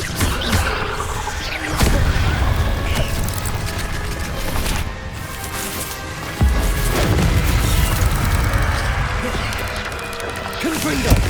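Repeated Confringo fire-spell blasts from the video game Hogwarts Legacy, booming bursts landing every few seconds over a continuous rumbling game backdrop, with a voice shouting the spell name between impacts.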